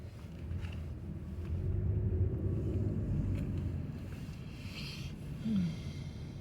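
Car driving at low speed on a ride-along delivery trip, a steady low engine and road rumble swelling slightly, with faint rattles and a brief squeak inside the cabin.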